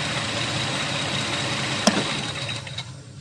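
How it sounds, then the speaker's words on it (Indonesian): A car engine idles steadily with a fuel-injection airflow sensor unplugged, then a sharp click sounds and the engine sputters and dies away into quiet within about a second. "dicabut sensor airflow ya, sensor utama ini, maka mesin harusnya mati seperti ini"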